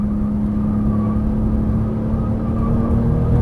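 A Porsche Turbo S engine pulls hard on throttle during a track lap, a loud, steady close-up drone from inside the car with no talking.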